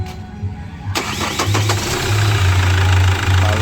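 A 2008 Chevrolet Captiva diesel with a smoking, hard-starting engine cranks briefly and catches, then settles into a steady, loud, slightly knocking idle close by.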